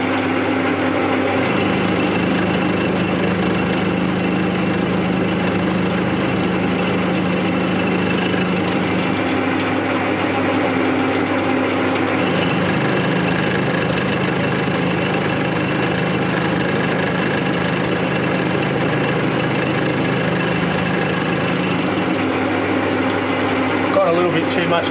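A metal lathe cuts steel T-nuts for a rotary table with carbide inserts, giving a loud, steady mechanical drone that shifts in tone a few times as the cut changes.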